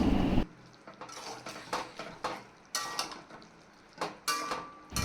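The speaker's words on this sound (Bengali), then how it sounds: "এখন আমি তার মধ্যে পোস্ত ও কাজু বাদাম বাটাটা দিয়ে ভালো করে মিশিয়ে নেব।" A spoon works poppy seed and cashew paste into cooked ridge gourd in a pot, making several separate scraping strokes and light metallic clinks with quiet gaps between them, close by and without speech.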